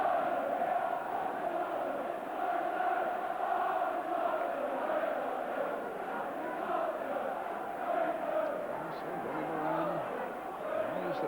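A large football crowd roars and murmurs at a Liverpool v Spurs FA Cup fourth-round match on snowy Merseyside, a continuous distant wash of massed voices under a commentator's talk.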